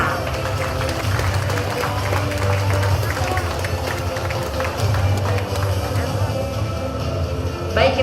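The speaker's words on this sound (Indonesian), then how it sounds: "kita berikan tepuk tangan sekali lagi yang paling hangat" A crowd applauds steadily and loudly at a Jakarta transport integration ceremony, with continuous clapping and a crowd murmur underneath throughout.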